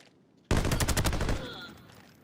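Rainbow Six video game gunfire: a sudden burst of rapid automatic shots that lasts about one second, loud and close, then fades into a ringing echoing tail.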